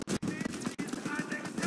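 Rapid gunfire from a Call of Duty WW2 Zombies match, a burst of repeated shots with brief gaps, mixed with game sounds and a voice talking over it.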